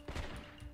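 A hand cannon guard fires in Assassin's Creed Chronicles: China, a short booming shot with a low thud and trailing crackle, heard close over quiet game background.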